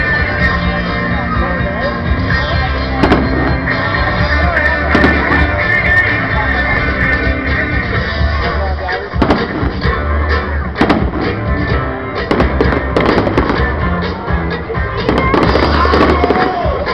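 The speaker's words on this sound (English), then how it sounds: "That's right. 2023 Independence Day fireworks." 2023 Independence Day fireworks display, with repeated loud booms and crackling bursts over a continuous rumble of explosions, heard from nearby for a sustained stretch.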